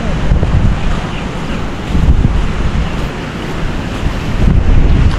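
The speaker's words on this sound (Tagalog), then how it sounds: "lakas ng alon" Strong waves and gusting wind as Super Typhoon Uwan floods land into open sea, a loud, continuous roar of surf and buffeting wind noise pressing on the microphone in surges.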